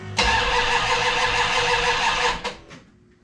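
A Plymouth Barracuda engine roars loudly for about two seconds, then cuts out with a couple of sharp exhaust pops as it backfires and dies away.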